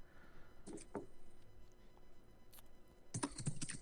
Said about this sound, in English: Just angrily typing.